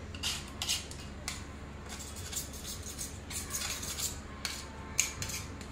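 A knife scraping jaggery off a metal ladle, metal against metal in a series of short scratchy strokes with small clinks, close by and fairly quiet.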